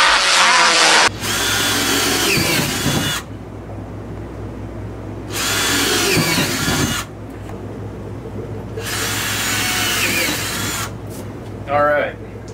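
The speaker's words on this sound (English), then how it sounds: "Now we need on each of these spots to drill a pilot hole with this sucker." A power drill bores pilot holes in pipe for water valve manifolds, whirring in three long bursts separated by pauses, loud and close, with a steady low hum running underneath throughout.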